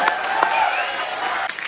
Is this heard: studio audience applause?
yes